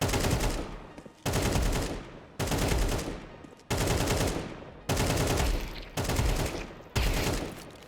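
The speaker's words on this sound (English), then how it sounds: "Let's try with the AK." Rapid automatic AK rifle fire from Counter-Strike 2, loud and close, coming in seven sustained bursts, each about a second long with brief gaps between them. No voices.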